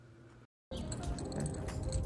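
A bunch of keys jangling loudly while someone walks outdoors, a continuous metallic clinking after a brief dropout.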